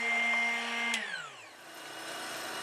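A Drill Doctor sharpener's diamond grinder spins while sharpening a twist drill bit, giving a steady motor whine that drops in pitch as it winds down after a brief scrape.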